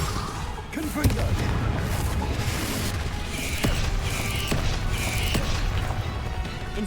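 Confringo spell blasts in a Harry Potter video game, sharp percussive bursts landing every second or so over a dense, busy game soundscape.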